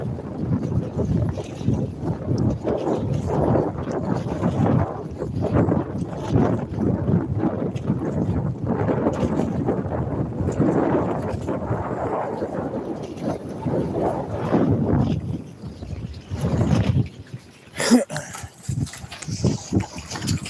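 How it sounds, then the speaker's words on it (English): Steady gusting wind buffeting an outdoor microphone near the water, a continuous rumbling roar for the whole stretch with a brief sharp knock near the end. "The wind's picking up here, actually, too."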